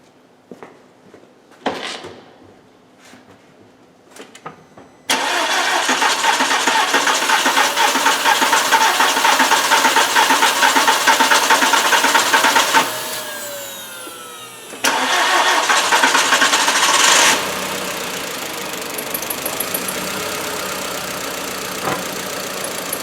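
A 2000 Volkswagen Beetle with the 1.8T engine cranks steadily and loudly in two long bursts, separated by a short pause, without catching. A few clicks and brief starter taps come before the first burst.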